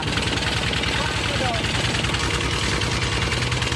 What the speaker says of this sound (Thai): พอเขาได้ยินเสียงรถไถ